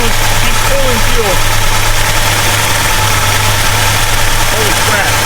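A 1969 Road Runner with a 440 V8, running again after more than twenty years sitting dormant, idles loud and close with a steady, rough, lumpy rumble.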